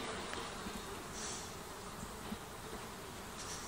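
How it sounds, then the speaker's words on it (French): Flies buzz around ponies standing in a field in the morning, a faint, steady insect drone heard in the open air with no voices present. "t'as plein de mouches là ce matin"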